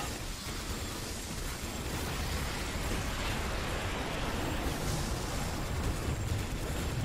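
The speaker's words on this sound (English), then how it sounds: "Bigger explosions is just better." Dense, continuous rumbling blasts from rocket troops and combat in the Starship Troopers: Kwalasha Campaign video game, a steady wall of booming explosions with no clear breaks, loud and close throughout.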